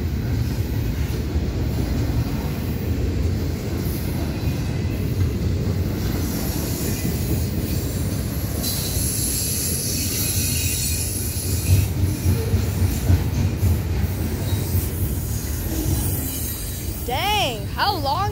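A long CSX intermodal freight train rolling past, with continuous heavy rumble and clatter of railcars and high metallic wheel squeals rising near the end, as people chat nearby.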